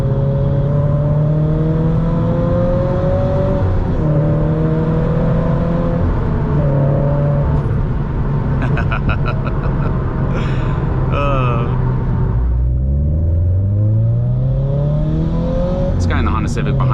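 A supercharged Scion FR-S engine drones steadily while driving, then rises through a gear change and revs up strongly; the sound is loud, close and sustained, with a whining harmonic tone sweeping upward toward the end.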